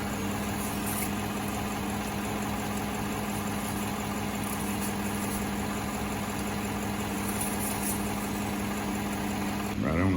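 A Chevrolet Silverado with a 6L80 transmission idles steadily after a transmission fluid service, its engine giving a constant, even hum with a low drone throughout, close by and uninterrupted.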